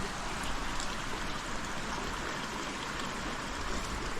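A steady rushing of flowing water fills the scene, even and continuous, like a shallow river running nearby.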